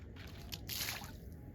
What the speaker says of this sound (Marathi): मी पाणी फेकतो, बघू त्याला दिसते का